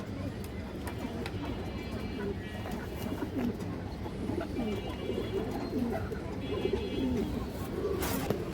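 Pigeons coo softly at a pigeon seller's stall, including a green-necked female bird, with repeated low cooing calls mingling under steady background noise and occasional faint clicks.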